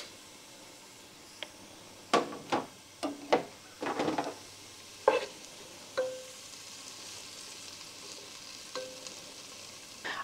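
Chopped onion sautéing in a pan while a spoon stirs it, giving scattered clattering scrapes and knocks over a faint steady sizzle, with several loud spoon hits clustered around the middle.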